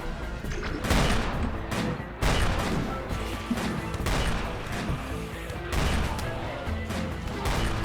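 Dense gunfire from focused firing in a video game battle, a steady barrage of overlapping shots with several louder bursts and crashes, continuous and close throughout.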